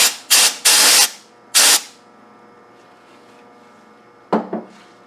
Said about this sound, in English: Take some electronics duster, or it's just canned air,